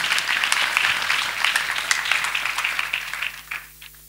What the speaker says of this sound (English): Let us clap for Master Jesus.